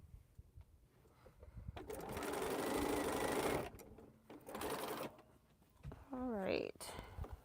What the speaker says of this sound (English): And sew this to here.